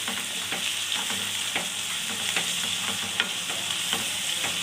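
Curry leaves and tomatoes are stirred into a mushroom curry frying in a pan, giving a steady close sizzle with regular spoon scrapes and stirring knocks, and no talking.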